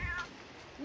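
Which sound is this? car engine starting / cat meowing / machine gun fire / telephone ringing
cat meowing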